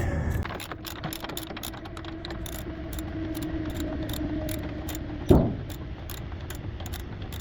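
Ratchet on an 18mm socket working a front control arm bolt of a BMW E61, giving a steady run of fast, close clicks over a low background hum, broken by one sharp metallic clank midway.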